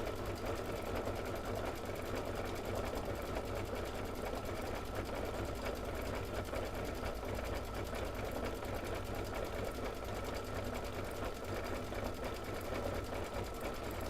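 A sewing-and-embroidery machine stitches a design in a steady, continuous mechanical whir with a fast rhythmic needle chatter, sounding close and even throughout, with no talk over it.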